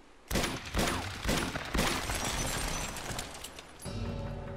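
Rapid bursts of gunfire in Uncharted 2: Among Thieves, loud and close, with dense cracking shots through the first half easing into a lower rumble at the end.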